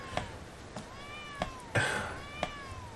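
The cartoon cat in the video game Bomb Cat meows over and over, several falling cries in quick succession with soft clicks between them, clear and close with no talking.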